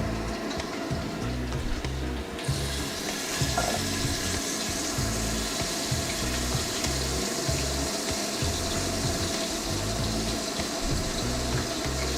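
Food frying in oil in a wok while Korean gimbap ingredients are cooked, a loud continuous sizzle and crackle that grows brighter after the first couple of seconds, close up with no voices.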